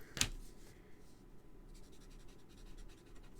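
A marker tip rubs across paper: one quick, sharp scrape, then softer, faint scribbling strokes close by.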